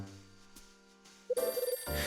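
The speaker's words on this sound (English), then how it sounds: "Phone's ringing." A phone rings in the video game Last Window: a loud run of rapid, evenly pulsed electronic trills cutting in over soft game music, with no speech.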